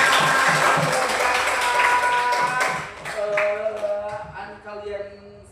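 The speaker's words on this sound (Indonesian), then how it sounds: "Kita beri tepuk tangan untuk semua." A class of students gives a round of applause for everyone: a dense burst of clapping that lasts about three seconds, then thins out as voices and talk take over.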